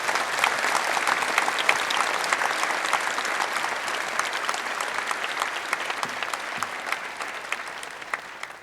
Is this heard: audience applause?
yes